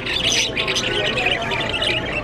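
Many caged budgies squawk and chirp at once inside a large general store. The bird chatter is dense and continuous, with faint shopper babble underneath.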